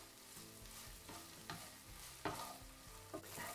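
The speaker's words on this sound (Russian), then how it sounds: "Размешиваю и буду обжаривать до румяности." Chicken fillet fries in a pan under a soft, steady sizzle while a utensil stirs it, giving several distinct scraping knocks. The sound is quiet and close, with no talking.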